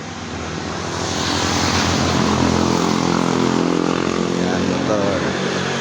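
A motorcycle passes along a village street, its engine a loud, steady droning rumble that swells up within the first second and holds strongly, with background street noise.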